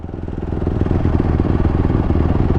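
A Yamaha YZ450 dirt bike being ridden, its big four-stroke engine pulsing in a rapid, steady throb close by, loud and continuous for a couple of seconds with no talk.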